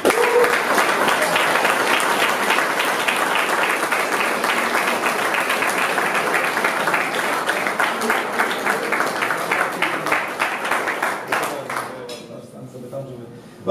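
A room full of people at a gym club's Christmas Eve gathering breaks into loud, sustained applause, many hands clapping together, gradually thinning and fading out near the end.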